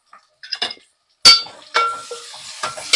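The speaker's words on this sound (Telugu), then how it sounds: "కొంచెం జీలకర్ర, ఇవన్నీ వేసుకొని కొంచెం ఫ్రై అయ్యేదాకా కలుపుకోవాలి" Cumin and spices fry in a pan while being stirred: a few sharp clinks and scrapes of a spoon against metal with a light sizzle between them, close up and brief, no voices.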